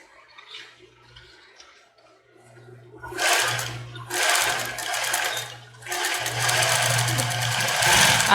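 A sewing machine stitches a seam on a cropped top in several bursts of rapid mechanical whirring, each a few seconds long with short pauses between, close and fairly loud after a quieter start.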